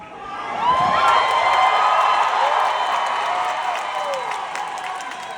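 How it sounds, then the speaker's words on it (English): A large crowd at an evening political rally in McAllen cheers, whoops and applauds. The noise swells quickly to a loud, sustained roar, then slowly fades, with scattered shouts rising above it. "this is quite the crowd."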